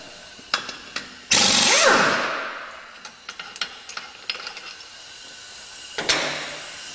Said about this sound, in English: Here in the shop we use an impact to remove the bolt